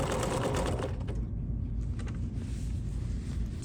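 A sewing machine runs continuously and fairly loudly, stitching a quilted pie runner into the corner of a pie-shaped piece, with a steady mechanical whir and no talking throughout.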